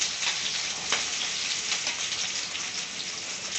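Green chilli and onion pieces sizzle and crackle steadily in hot oil for prawn fry, a dense, close frying hiss with a few brief pops and no talk.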